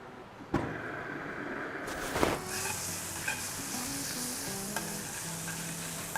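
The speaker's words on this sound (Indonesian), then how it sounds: "ini bawang putihnya kita tumis sampai wangi ya" Garlic sautés in hot oil for a barbecue sauce, a steady close sizzle with a sharp clatter of a utensil as stirring begins and light scraping knocks through the rest.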